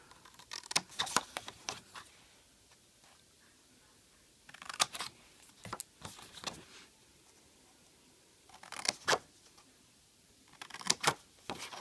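Scissors cut paper squares for notecards in quiet, close bursts of crisp snips separated by pauses, with faint room noise between the cuts.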